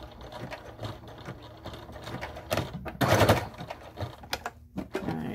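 A sewing machine back stitching purple fleece, giving a quick mechanical rattling run of stitches in short irregular bursts with small clicks and pauses, near and fairly quiet.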